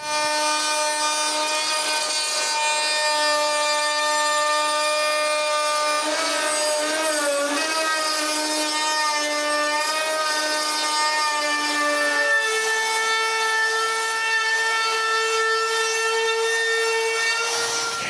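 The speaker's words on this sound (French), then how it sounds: "je coupe un autre bout de cèdre. Puis je fais une feuillure à chaque bout." Power tools cut a piece of cedar and rout a rabbet into each end, a steady high whine with many bright harmonics that runs without a break and shifts pitch partway through.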